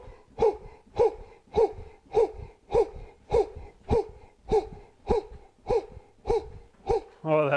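Twelve sharp, forceful breath pulses pushed out in a steady rhythm about every half second during a power breathing exercise, each exhale bursting with a hoarse, throaty edge, close and loud, ending in a brief rising voiced sound.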